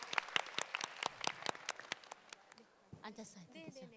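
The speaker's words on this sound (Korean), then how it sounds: "박수 한번 부탁드립니다." Scattered hand clapping from a Gyeongju citizens' roundtable meeting audience in 2019, with sharp, irregular claps for about two and a half seconds before it fades and a voice begins talking.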